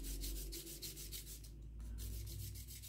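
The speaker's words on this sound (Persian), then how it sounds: "خوب این کنارهاش رو سنباده بکشیم که یه حالت گردی پیدا بکنه" Sandpaper rubs along the edge of a piece of leather to round it off, giving a steady, close scratchy rasp of continuous back-and-forth strokes with no talking.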